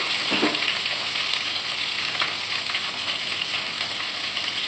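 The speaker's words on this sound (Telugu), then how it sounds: "ఇవన్నీ కూడా కొంచెం ఆయిల్లో యాగాలండి" Ginger, green chillies and chopped tomato fry in hot oil with a steady, close sizzle that holds throughout, marked by a few brief crackles and stirring touches.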